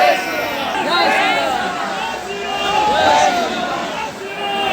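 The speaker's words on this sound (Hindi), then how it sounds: "जयकारे भी लग रहे हैं।" Devotees at the Ayodhya Ram temple chant praises together, a dense crowd of voices rising and falling in a steady, close hubbub with no pause.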